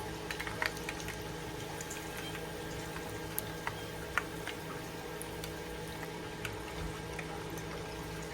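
Chicken vegetable rolls deep-fry in hot oil, a faint, continuous bubbling with scattered small pops and crackles throughout.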